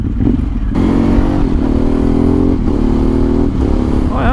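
A BMW R1250 GSA motorcycle's engine roars loudly and steadily through its exhaust, with rising revs and gear changes, close up and alone.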